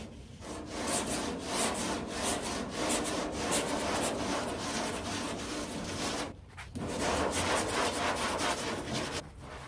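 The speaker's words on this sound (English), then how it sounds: "Good sharp piece of 40 grit. Carve it on down." Coarse 40-grit sandpaper scrubs steadily over drying body filler on a C10 truck, a continuous loud rasping with repeated strokes and one brief pause partway through.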